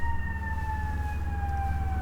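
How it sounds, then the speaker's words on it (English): Fire truck and ambulance sirens wail together as emergency vehicles leave a fire station, with steady sustained tones slowly falling in pitch over a continuous low engine rumble, no voices present. "the fire trucks are going. And there goes the ambulance out of the fire truck station."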